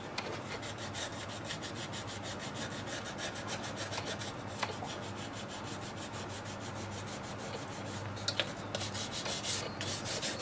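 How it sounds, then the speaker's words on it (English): Continuous rhythmic rasping of sandpaper rubbed by hand on a wooden hollow form turned from a multi-branch log, quiet and close, with a couple of small knocks near the end. "We've got a lot of hand sanding on this particular piece."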